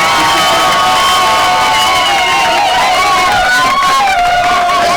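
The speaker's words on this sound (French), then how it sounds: "Est-ce qu'on peut faire un you-you et des acclamations pour accompagner?" Guests at a French town-hall wedding ululate and cheer for the couple, with shrill warbling trills rising over a loud, continuous crowd roar of shouts and clapping.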